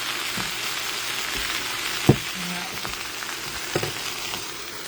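Potatoes fry in a pan over high heat with a dense, even sizzle, joined by a few sharp scrape and clink sounds from stirring near the midpoint and again later.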